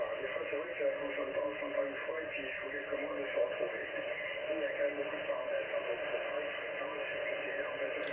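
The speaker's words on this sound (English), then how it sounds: "So very noisy band tonight." A noisy amateur radio band at night with a weak station buried in the noise, heard as steady static hiss and crackle with a faint, barely distinct signal running throughout.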